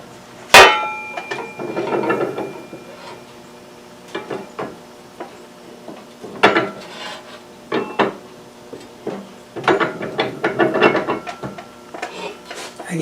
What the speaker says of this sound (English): I take them over to my press and press them in place once again.